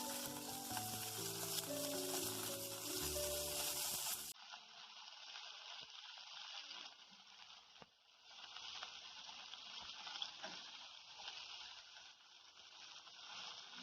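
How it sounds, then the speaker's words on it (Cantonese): Chicken wings frying in a pan give a steady, close hiss and sizzle. Music plays over the first few seconds, then the frying goes on alone. "煎到金黃色，可以反轉煎另外一面啦。"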